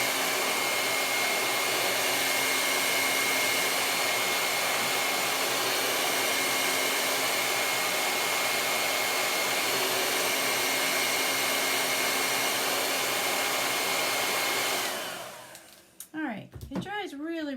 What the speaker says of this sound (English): I'm just using a regular hairdryer.